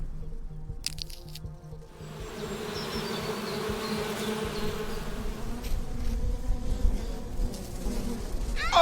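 A swarm of bees buzzes angrily from a hive disturbed by a thrown pebble in a video game set in the Everglades, a dense droning hum that swells and grows louder after a short opening.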